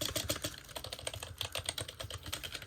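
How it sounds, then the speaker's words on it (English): Fast, steady typing on a Keji RGB membrane gaming keyboard, a dense run of soft, muted key presses heard up close with no speech. "iconic membrane keyboard noise."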